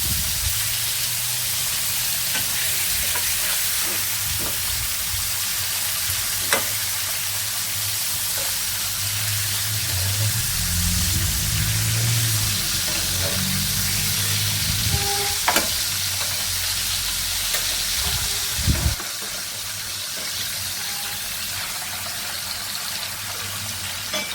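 Fish frying in hot oil, a loud continuous sizzle and hiss throughout, with occasional clinks and a brief dip in intensity near the end.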